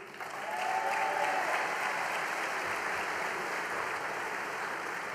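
A political rally crowd applauds Fabrice Leggeri with sustained, dense clapping that swells quickly and holds steady throughout. The room-filling sound is fairly distant and even, without voices on top.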